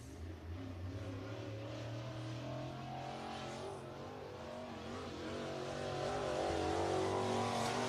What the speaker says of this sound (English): Out on the speedway, Chris Laver in the 8 machine